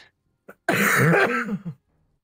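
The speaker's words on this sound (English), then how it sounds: "that was a cough" A single harsh cough, or a throat-clearing rasp, sounds close and loud for about a second, with brief faint sounds just before and after and no talking, during a tabletop role-playing game session.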